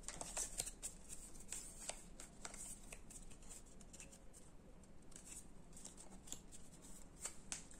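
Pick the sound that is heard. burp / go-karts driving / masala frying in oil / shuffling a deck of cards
shuffling a deck of cards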